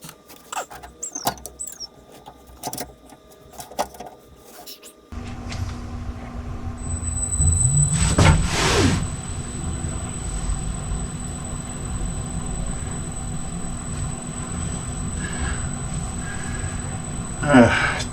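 A wood lathe roughing out a blank starts its motor partway through, rising from quiet shop clatter to a steady humming drone with a thin whine, and a brief rushing swell comes soon after start-up.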